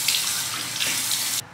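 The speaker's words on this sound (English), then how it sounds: "I'm just gonna wash my face." Water runs steadily from a sink tap during face washing, a close, loud, even hiss that cuts off abruptly near the end.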